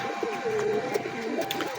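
A pigeon coos close by in soft, repeated rolling calls over a steady background hum.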